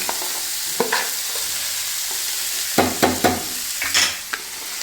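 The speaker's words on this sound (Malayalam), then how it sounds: "ഇത് കഴുകി തോത്തി വെച്ചേക്കുന്ന ഒരു മുന്നൂറ് ഗ്രാം ദാലാണ് അത് നമുക്കിതിലേക്ക് ഇട്ട് ഒന്ന് ഫ്രൈ ചെയ്തെടുക്കാം" About 300 grams of washed, drained dal frying in ghee, a soft steady sizzle broken by several distinct scraping stirs of a spoon in the pan, with no one speaking.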